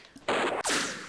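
Two sharp gunshot bursts crack out close together in a World War II strategy video game, each one loud and hissing as it fades.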